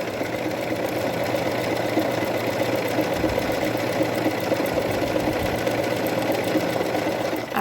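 A sewing machine runs steadily while stitching a seam with a rolled hem foot, a continuous dense mechanical whir at constant loudness with no pauses.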